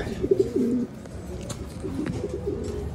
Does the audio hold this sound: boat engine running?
no